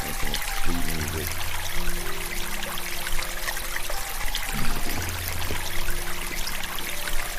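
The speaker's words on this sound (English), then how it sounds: "even just the sound of that running water in that fountain. Just water flowing." Running water flowing in a fountain, a steady splashing and trickling wash that holds throughout, with faint low tonal sounds underneath.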